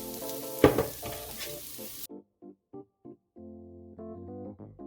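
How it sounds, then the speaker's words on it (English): Hot oil crackles and sizzles briefly as onion hits the pan for a shrimp and broccoli stir fry, a short burst of frying before it cuts to near silence with faint tones. "Oil's nice and hot, so let's add our onion to this. Get our sizzle on."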